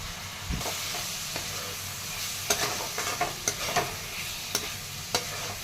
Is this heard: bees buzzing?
no